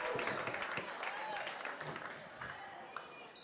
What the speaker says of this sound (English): The crowd absolutely roaring for this final set.